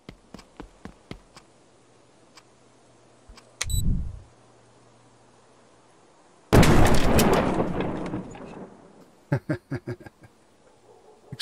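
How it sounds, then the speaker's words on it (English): A grenade detonates in MythBusters: The First Experiment, a loud roaring blast that trails off over about two seconds, preceded by a shorter thud and followed by a quick run of sharp cracks. "Detonate the grenade."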